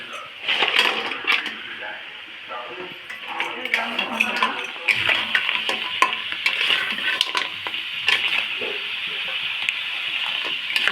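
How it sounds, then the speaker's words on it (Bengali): Fried crab pieces cook in a pan with a steady sizzle and bubbling, broken by scraping and clinking as they are stirred, with a voice talking over it. "এই যে এখন ভেজে রাখা গুলো এখন রান্না করছে কাঁকড়ো ভেজে রাখা গুলো"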